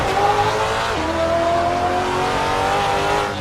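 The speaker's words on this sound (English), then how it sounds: "Oh yeah, that downshift." A race car in the Assetto Corsa racing game downshifts into a tight corner on the LuccaRing track. The loud engine note drops sharply, then climbs steadily again with no talk over it.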